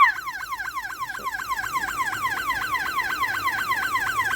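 Industrial door timer alarm sounding after the door stays open too long, a steady, repeating electronic warble with rapid rising-falling sweeps, continuous and moderately loud with no talk.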